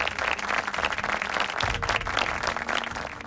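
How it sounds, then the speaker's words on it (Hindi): Audience applause at a family Bible quiz show welcoming a quiz team from Khandwa diocese, Madhya Pradesh: dense, steady clapping from a crowd filling the room, close and sustained throughout. "तो जोरदार तालियों से इनका स्वागत कीजिए।"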